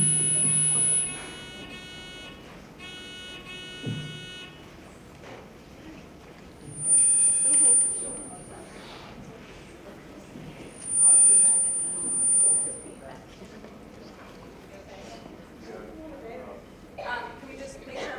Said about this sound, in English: we'll start with testing buzzers